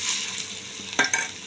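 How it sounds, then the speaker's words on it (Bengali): Jute leaf fritters dropped into hot oil to fry give a steady close sizzle, with a couple of sharper spattering bursts near the end and no talking. "দেখুন আমি এইভাবে করে সব কটা বড়া আমি তেলে ছাড়বো। তেল গরম হয়ে গেছে আমার"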